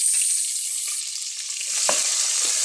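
Garlic, onion and tomato sizzle steadily in hot oil, a bright continuous crackle with a few soft stirring scrapes near the end, no voices.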